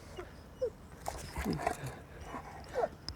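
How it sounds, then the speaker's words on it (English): Dogs give a few short yips and whimpering barks, scattered and moderately distant, with faint talk in the background. "we're getting close to the dogs here, so you're going to start hearing some dogs here"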